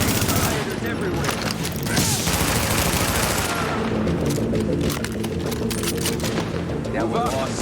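Gunfire in Tom Clancy's The Division video game comes in loud rapid bursts and crackling volleys, close and dense, with someone speaking over the shooting.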